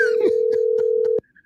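A steady telephone dial tone while calling a Chick-fil-A restaurant, loud and close for just over a second before cutting off abruptly, with faint unclear talk underneath.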